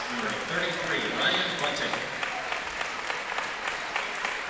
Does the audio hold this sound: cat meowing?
no